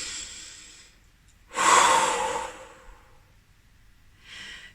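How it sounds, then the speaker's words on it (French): A person takes a slow breath in and then blows out a long audible exhale during a relaxation exercise, close and quiet, with a softer breath at the end. "J'inspire et je souffle."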